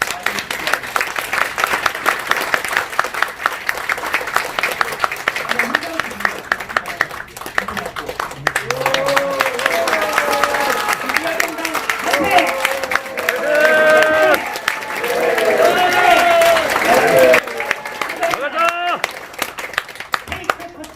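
An audience at a political party founding ceremony claps steadily through a flag handover, a loud dense patter of applause lasting throughout, with a voice speaking over it in the middle stretch.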